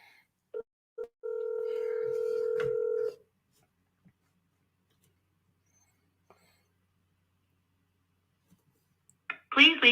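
Outgoing phone call from an office during commercial real estate cold calling: a few short keypad tones, then a long steady ringback tone lasting about two seconds, followed by near silence and a faint burst of a voice at the end.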